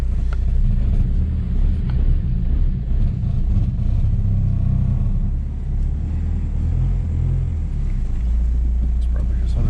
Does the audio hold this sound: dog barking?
no